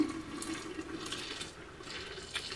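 Hot water runs steadily into a jar of under-diluted homemade liquid soap, a soft continuous splashing pour lasting a couple of seconds at close range with no voices.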